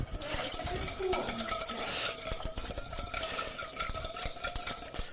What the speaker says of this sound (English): Just gonna whisk this up.